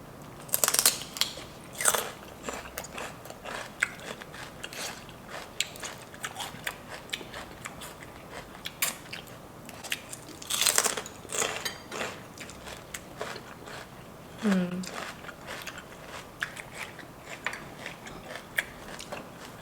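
Celery sticks bitten and chewed during a Buffalo Wild Wings mukbang with ranch, giving repeated close, crisp crunches scattered through the clip with no talking.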